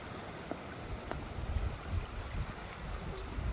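Water running through a ford under a bridge on a countryside walk along the South West Coast Path, a continuous broad rushing flow with some wind buffeting the microphone, no voices.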